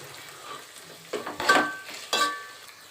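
Biryani masala frying with coriander and mint leaves in a pan, a soft sizzle broken by a few stirring strokes and brief clinks of a spatula, close and alone.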